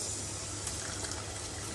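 Pasta water splashes from a pan into another pan in a home kitchen, a steady soft gushing pour heard up close that runs evenly throughout.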